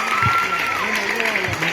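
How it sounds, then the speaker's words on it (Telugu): Schoolchildren in a classroom clap together for a girl: a short burst of dense, steady clapping with voices talking over it. "వెరీ గుడ్, చప్పట్లు కొట్టండి పాపకి"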